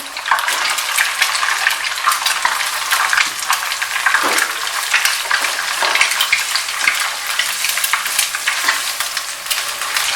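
Chicken fried rice with egg stir-frying in a pan, loud continuous sizzling with frequent scraping and tossing strokes, close up and without speech.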